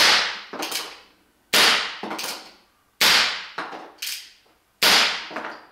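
Airsoft BBs from a .45 caliber airsoft pistol strike a homemade indoor target, giving sharp close cracks with rattling tails, heard in pairs at a steady pace of about one pair every second and a half.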